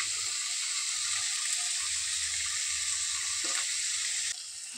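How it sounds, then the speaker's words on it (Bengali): Vegetables fry in a pan with a steady, close sizzle and hiss that runs evenly throughout, easing slightly just before the end, with no talking. "তো সবজিটা ভালো করে ভাজা হয়ে গেছে আর পুরো সবজি সিদ্ধ হয়ে গেছে।"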